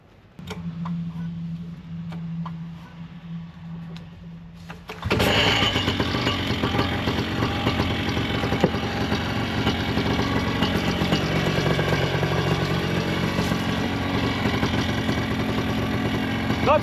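Paramotor engine during a 25-hour service, a quiet low hum at first, then it starts abruptly and settles into a loud, steady, buzzing idle close by that runs on without a break.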